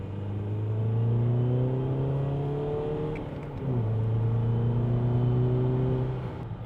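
A BMW 320d with an M47 diesel engine and a 330d turbo fitted accelerates hard. The loud engine note climbs steadily, dips sharply at a gear change midway, then climbs again, with no talking.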